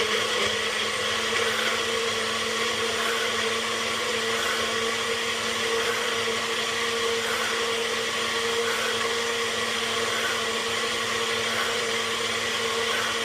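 A kitchen blender runs steadily for the whole stretch, a loud continuous whirring drone that stays even from start to finish, with no speech over it.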